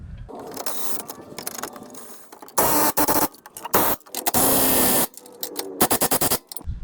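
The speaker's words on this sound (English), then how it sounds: "Putting these 2 bolts on. So tightening up the arm." Ratchet clicking in repeated bursts while tightening two bolts on the lower control arm of a 2014 Toyota Sienna, loud and close with short pauses between strokes.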